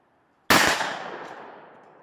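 A single sharp firearm gunshot aimed at a steel plate target cracks out of silence, with a bright ringing tail that decays over more than a second.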